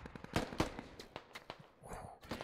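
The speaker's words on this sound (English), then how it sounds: "He's being shot by two people." Gunfire in the tactical shooter game Squad during a competitive championship match: several sharp, loud shots crack out early, followed by scattered quieter bursts and a faint whistling tone near the end.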